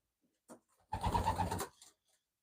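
Young pigeons in a loft give a soft, rolling coo lasting under a second, preceded by a faint short call, close by in a quiet room.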